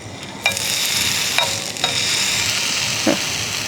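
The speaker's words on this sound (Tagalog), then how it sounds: "ito na ang tunay na paraan paano magluto ng beef samgyup" Beef samgyup sizzles steadily in a hot pan at a beach campsite, a continuous close hiss broken by a few clicks and scrapes of stirring, with no talking.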